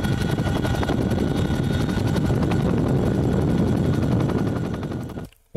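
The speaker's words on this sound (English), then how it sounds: "Helicopters are scary." A helicopter roars close by with a loud, rapid rotor chop that holds steady, then cuts out abruptly at the end.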